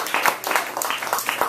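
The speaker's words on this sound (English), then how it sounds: "let's give them a round of applause." A small audience applauds debaters at a university climate change debate, giving a brief patter of scattered, uneven handclaps at moderate volume.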